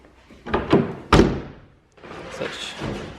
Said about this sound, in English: I guess you kinda gotta slam these because they're so light